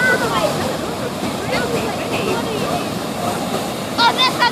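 Large ocean waves roll and break at Balboa Pier in a steady wash of surf, with wind noise on the microphone and people talking excitedly over the sound.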